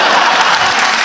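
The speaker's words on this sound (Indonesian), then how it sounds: "Boleh tepuk tangan dong buat mas-mas ini." Audience applause at a public gathering, a dense burst of clapping from a crowd, loud and continuous for a short moment.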